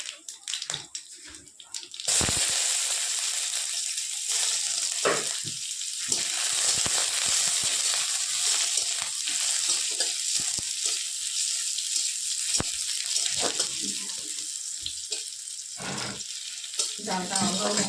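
Cumin seeds hit hot oil in a fully heated wok and burst into a loud, sustained sizzle after a quieter opening, with crackles and spits continuing close up to the end.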